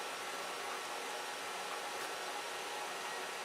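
An FLSUN QQS 3D printer running a print gives off a steady, even whirring hum of fans and motors, constant and moderately quiet throughout.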